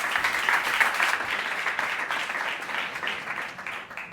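An audience at a corporate conference talk applauds, a dense, steady clapping that carries on for about four seconds and slowly thins out toward the end.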